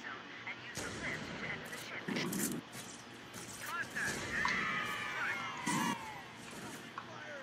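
Video game gunshots ring out in a late-night alien-killing session, irregular bursts and bangs mixed with sci-fi whooshes and tones, while excited players shout and talk over the action.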